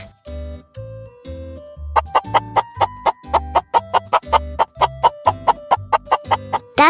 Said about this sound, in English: That's right, it's a chicken.